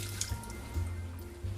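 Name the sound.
water dumped from stainless steel pan into sink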